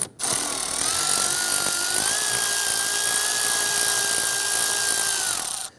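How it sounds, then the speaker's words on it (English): Power driver with a T30 Torx bit loosening a passenger-side mirror mounting screw on a 2010-2016 Cadillac SRX, a steady close whirring drone held for about five seconds with a slight pitch rise midway. "Using a T30 Torx bit, I want to go ahead and loosen and remove this screw right here."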